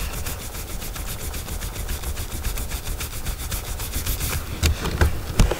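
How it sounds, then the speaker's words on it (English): A gel pen's rubber eraser end rubs briskly across paper to clear scribbled ink, giving a close, rapid back-and-forth scrubbing in an even rhythm with a few sharper strokes near the end. "And so let's rub this out."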